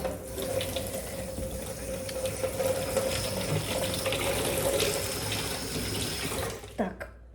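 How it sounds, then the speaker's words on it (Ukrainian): Water pours steadily from a tap for several seconds, a continuous rushing splash that cuts off abruptly near the end. "Зараз я воду надаю."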